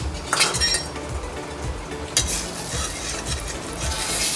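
Cumin seeds and turmeric sizzle in hot oil in a pan on a griddle, a loud, close, continuous crackle with a couple of sharper clinks of a spatula against the metal.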